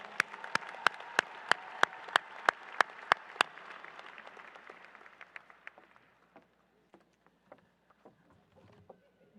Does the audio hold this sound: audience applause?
yes